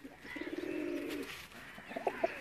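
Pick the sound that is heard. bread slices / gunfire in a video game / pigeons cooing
pigeons cooing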